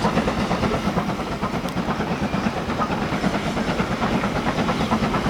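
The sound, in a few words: train moving in Transport Fever 2 video game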